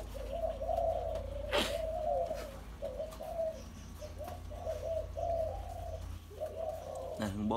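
Repeated soft, throaty spotted dove coos in short phrases, fairly close, at a dove breeding farm, with a sharp chirp from another bird partway through and steady low background hum.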